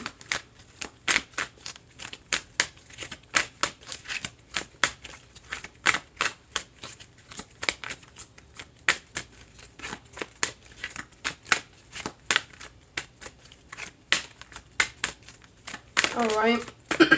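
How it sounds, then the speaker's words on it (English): Tarot and oracle decks being shuffled by hand, a long run of quick, crisp riffling card flutters close up, repeating rapidly with no talking. "Let's get these shuffled up."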